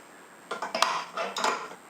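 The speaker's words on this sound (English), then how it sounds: "In it goes, and we're just going to connect that to the stand mixer" A metal mixing bowl holding yeast mixture and softened butter being fitted onto a stand mixer, giving a few close clinks and clattering knocks in quick succession.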